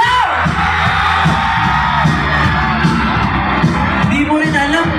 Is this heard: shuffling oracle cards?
no